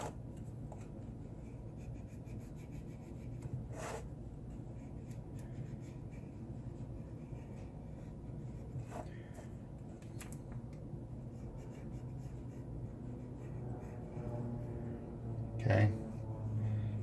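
Fingers press and rub a foil lid around the edge of a refillable Nespresso Vertuoline pod, making a faint, continuous scratchy crinkling close by, with a couple of sharper crackles and a bump near the end.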